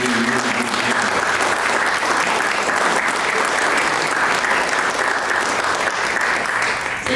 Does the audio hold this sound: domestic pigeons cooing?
no